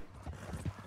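Horse hooves clip-clop in Red Dead Redemption 2, a short run of soft, muffled hoofbeats on dirt under low rumbling game ambience.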